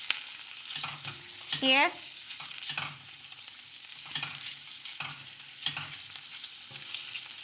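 Shrimp and other seafood for a Spanish gazpacho frying in a pan, a steady soft sizzle with occasional stirring clatter throughout, one brief voice cutting in near the start.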